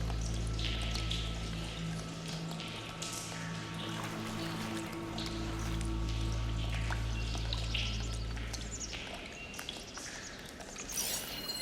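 Pouring, splashing water flows through redirected pipes in Horizon Forbidden West, a steady rush beneath a low hum, with bird chirps and small clanks scattered on top.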